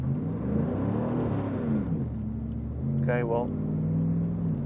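Engine of a modified 1987 Pontiac GTA Firebird revs and swells as the rear slides out, a close, steady rumble rising and falling with someone talking over it.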